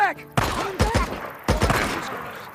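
Gunfire in Days Gone, a few loud sharp bursts of shots that come in quick clusters, close and punchy, with a voice talking between them.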